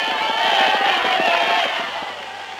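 Horse racing crowd roaring as the field nears the finish wire, a loud, dense wall of shouting and cheering that holds strong and then fades slightly, with an old 1930s recording tone.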